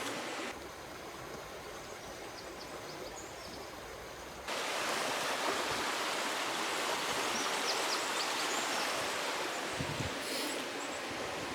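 A flowing stream rushes steadily as a broadband wash, captured on a Sony ZV-1 and an iPhone 12 Pro, with the level jumping louder partway through as the recording switches, and no talk.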